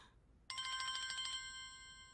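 A telephone rings with a single bright electronic trill, a rapid warble lasting about a second that fades into a sustained tone, fairly faint and heard alone.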